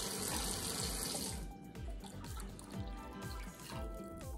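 Water pours steadily from a tap into a large bowl while mixing hand-casting material, a continuous close rushing and splashing sound with no talk.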